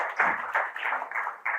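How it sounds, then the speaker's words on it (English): Applause for a presenter at a pharma technology conference session, a short run of steady, fairly close clapping. "a big round of applause to Dr. Bhaskar because of his presentation"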